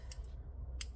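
Scissors snipping thread while seaming knitwear, a few quick faint metallic clicks close by in a quiet room.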